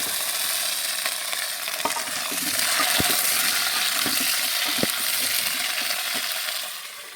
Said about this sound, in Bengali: ডাঁটা আলুটা একটু হালকা ভাজা হয়ে গেছে